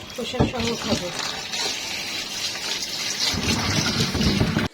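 Hog plums are rinsed under running water, a loud close splashing gush with irregular swells, while voices talk over it.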